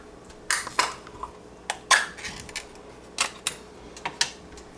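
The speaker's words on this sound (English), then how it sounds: "I'm going to pull out one more can of tomato soup here" A can of tomato soup handled in a home kitchen while cooking stuffed peppers: a series of separate, sharp metallic clinks and taps at an irregular pace, close and fairly clear, with quiet pauses between them.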